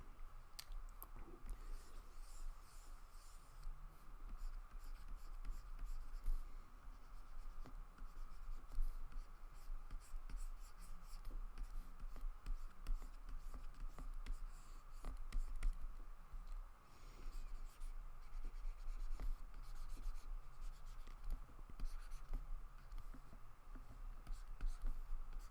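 A pen scratches and scribbles continuously across paper while a figure's neck is drawn, soft and close, with a constant low background hum.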